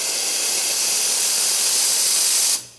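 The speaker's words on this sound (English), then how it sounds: "Plenty of steam power." A La Marzocco GS3 espresso machine's steam wand blasts a loud, continuous close-up hiss for over two seconds, then cuts off abruptly, leaving a brief quiet tail.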